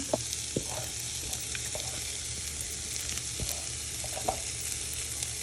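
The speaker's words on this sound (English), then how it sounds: "after when your pan is nice and hot, you're going to place all your onion and garlic in" Onion and garlic fry in a hot pan for Mediterranean stuffed peppers, giving a steady close sizzle with scattered crackles and pops and no talk.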